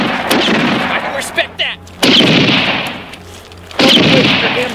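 A shootout erupts with loud, close gunshots in several sharp bursts, each blast decaying into a rumbling tail, separated by brief quieter gaps.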